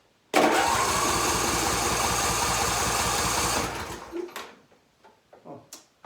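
A John Deere S140 lawn tractor engine cranks with the choke on, a loud close steady churning whir lasting about three seconds, then it cuts off without catching, followed by a few faint clicks and knocks.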